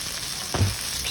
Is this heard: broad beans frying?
yes